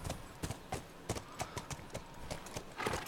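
Horse hooves in The Last of Us video game, a steady soft clip-clop of footfalls at walking pace, fairly quiet under faint background ambience with no voices.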